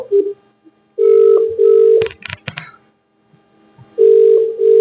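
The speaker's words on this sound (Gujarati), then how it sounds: "હવે આપણે એને ફોન કરવાના છે પાછો" A phone ringback tone sounds loudly while a number is called back, steady buzzing bursts separated by pauses, with brief clicks and beeps between rings and no talking.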